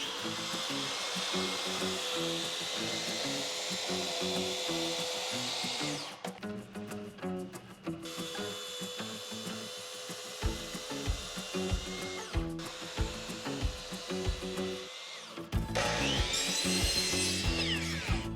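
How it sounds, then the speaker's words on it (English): A track saw cuts scrap wood during a budget DIY tiny house kitchen build: a loud, sustained whirring cut with a short break and a dip before it resumes, ending in a final burst of blade noise. "We're about to experience the magic of the track saw"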